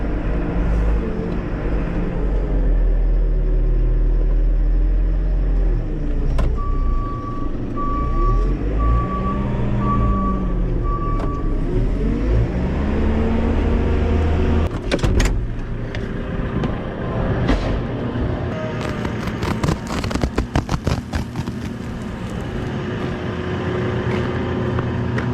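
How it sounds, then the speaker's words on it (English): A John Deere 8270R tractor being driven out on a farm: a rumbling engine that rises and falls, with a run of reversing beeps early on and some clattering knocks later, and no talk. "and then I'll get the tractor out."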